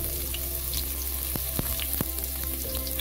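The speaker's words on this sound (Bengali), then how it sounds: "রসুনটা ভাজা হয়ে গেছে," Garlic crackling in hot oil in a pan, with a dense, steady, close sizzle punctuated by a few sharp spatters and light utensil taps.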